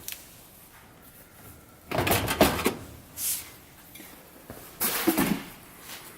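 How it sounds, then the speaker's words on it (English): Oven door being lifted off its hinges on a dual fuel range, a cluster of metallic clunks and scrapes followed by a later knock, close by in a quiet room. "Lift the door up and off."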